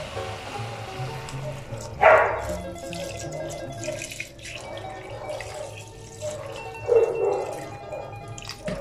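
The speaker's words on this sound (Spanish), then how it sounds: "Y ahora lo que vamos a colocar va a ser el vino, media botella" White wine, about half a bottle, is poured into a cooking pot of chicken, heard as a couple of brief liquid splashing bursts over faint kitchen background noise.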